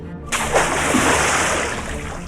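A cartoon lion leaps into a well with a loud splash that bursts in after a brief silence and churns on as steady watery sloshing.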